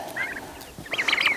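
Bronze and Timothy white turkeys on a farm gobble in two bursts, the second longer and fuller, heard close with no talking.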